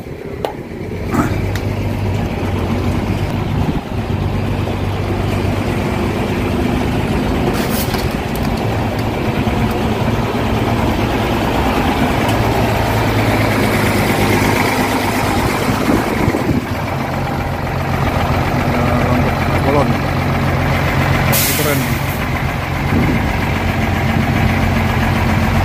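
A high-bodied bus, a Barumun HD coach, idles with a steady low rumble and faint vibration throughout, holding a constant level with no voices over it.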